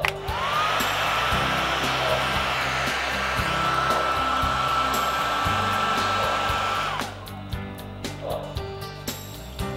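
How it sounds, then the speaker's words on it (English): A hair dryer blows air to dry paint on an NYC J-1e Hudson steam locomotive model, giving a loud, close, steady whoosh for about seven seconds before it cuts off, leaving quiet handling noises. "Now, let's put a little drier air on them."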